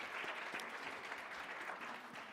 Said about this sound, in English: let's give them a round of applause, everyone